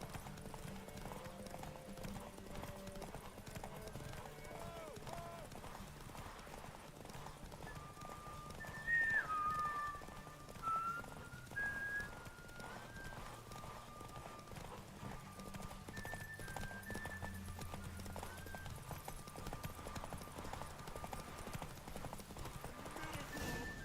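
Horse Roach's hoofbeats in The Witcher 3, a steady rhythmic clip-clop of hooves on the ground under game music, with a brief neigh partway through and a voice speaking.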